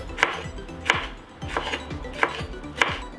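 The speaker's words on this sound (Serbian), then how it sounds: "Sada ću iseći 2 ljute papričice." A knife cuts hot chili peppers into rings on a board, five crisp, evenly spaced chops close up, about one every half second, with no talking.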